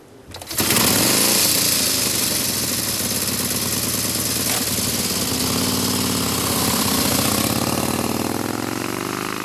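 A vintage James sports twin motorcycle engine starts up and runs steadily, a loud close continuous mechanical roar with a fast throbbing pulse that holds almost constant for several seconds, no voices.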